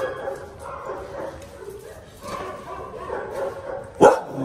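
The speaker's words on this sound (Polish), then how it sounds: "to jest strasznie głośno. Mam nadzieję, że mnie słyszycie, ale te pieski są wszystkie takie piękne" At an animal shelter a crowd of dogs barks and yips continuously, loud and close, with one sharp bark standing out near the end while someone talks over the din.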